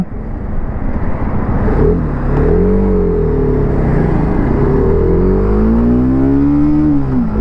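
A 2025 TVS Apache RR310 motorcycle accelerates hard through its gears, the loud engine note climbing in pitch, dropping at each shift and rising again, with no talk over it.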